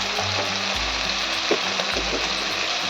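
Cumin, coriander and turmeric powders with chicken skin and eggplant sizzle steadily in a hot pan, a close, continuous fry broken by a few scraping stirs.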